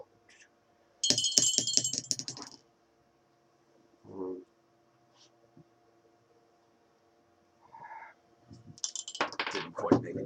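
Dice clatter and rattle as they are rolled in a tabletop game, with a few sharp bursts near the start and again at the end. Quieter clicks and brief voices come in between the rolls.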